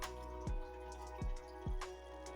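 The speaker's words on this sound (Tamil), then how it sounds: "அதில் ஏற்கனவே நம்ம கரைச்சி வச்சுருக்க புளி தண்ணியை சேர்த்து நல்லா கிண்டி விட்டுக்கிறேன்." Tamarind water drips into a pan of brinjal curry in three soft, wet plops, each a quiet squish over a faint steady background hum.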